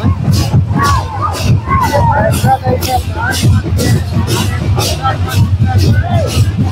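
Villagers crowd together at a protest against a minister, a dense babble of many voices with shouts and cheers rising over the steady noise, close and loud throughout.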